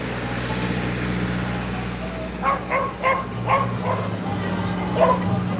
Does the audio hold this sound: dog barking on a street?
yes